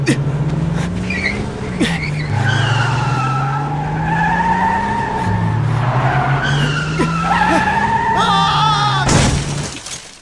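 A car skids after its brakes fail, with loud, sustained tyre screeches that rise and slide in pitch over several seconds, alongside a few sharp knocks and a brief voice.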